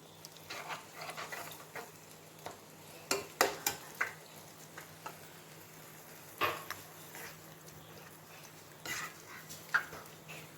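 Squid roast being stirred and mixed in a pan, with scattered scraping and clinking of a utensil against the pan over a low sizzle, in irregular bursts.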